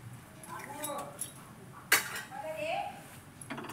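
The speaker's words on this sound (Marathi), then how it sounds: "त्याच्यावर कढई मांडली आहे." A metal kadhai is set down on a gas stove with one sharp clank amid light clinks of pots and utensils, while someone talks quietly nearby.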